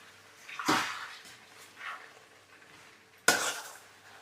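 A spoon stirs wild mango gojju with salt and spices in a pan, making two sharp wet scrapes and a softer squelch in between over quiet background.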